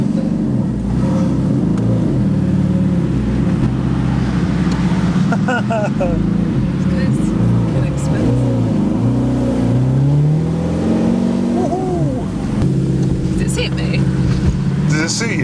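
A Ferrari engine hums and rises in pitch as the car pulls away in automatic mode, its note climbing and easing through the run while people talk inside the cabin over it.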